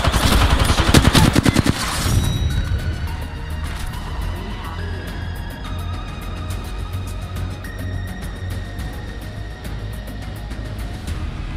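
Automatic gunfire in an Apex Legends duos match at Estates, an opening burst of rapid loud shots followed by steady weapon noise and humming game sounds, with tonal effects layered over it and no talking.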